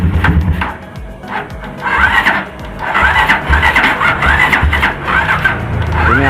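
Honda Tiger 260cc motorcycle being cranked by its electric starter, repeated whirring and squealing bursts in an uneven rhythm, loud and close, without the engine clearly catching.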